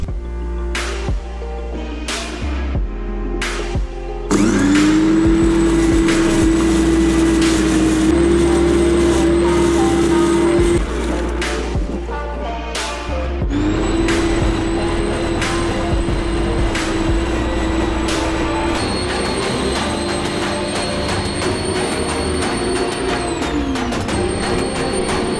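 A Black & Decker electric lawn scarifier motor whirs up loudly and steadily near at hand, cutting out briefly partway before restarting and running on with a sustained mechanical drone.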